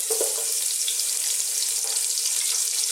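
Onions dropped into hot oil for a spicy lentil tomato soup, a loud bright sizzle that holds steady and close throughout, no talk.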